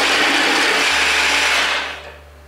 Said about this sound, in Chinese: 一起把它打成末。